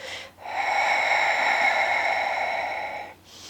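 During a prenatal yoga session, one long active breath is drawn in through the nose. It sounds close, sustained and airy, lasting nearly three seconds between short quiet gaps.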